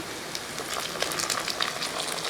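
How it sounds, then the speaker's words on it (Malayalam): Ingredients for cherupayar (green gram) curry, with tomato, sauté in a pan: a steady, close crackling sizzle with small spattering pops from start to finish. "ഇതെല്ലാം കൂടെ നന്നായിട്ടൊന്ന് വഴറ്റി കൊടുക്കുക"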